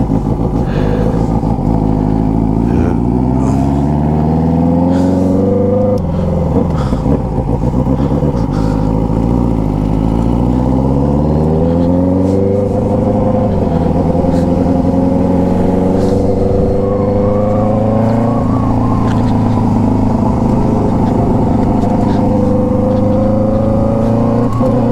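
A turbocharged Yamaha XJ6 motorcycle roars loudly and continuously along the road, its engine note rising and falling through gear changes and throttle pulls, close and alone without talk.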